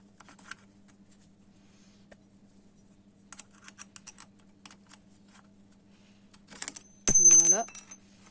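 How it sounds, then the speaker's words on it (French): Brake pads drop out of a rusty caliper on a SYM Lander 250 quad. Scattered small metallic ticks and taps lead up to one sharp, close clatter of metal with a brief ringing tail near the end. "normalement on entend les plaquettes qui doivent tomber"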